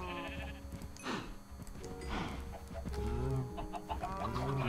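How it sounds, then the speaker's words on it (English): Sheep in a modded video game bleat several times over a few seconds, loud and close, with chicken clucks mixed in. "Baby sheep. Sounds good."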